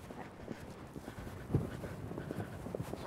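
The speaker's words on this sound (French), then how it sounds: "Ils sont top ces chevaux." Horses move in fast, uneven hoofbeats during a mounted archery session, faint and slightly distant, with a louder thud midway and soft breathing or movement around them.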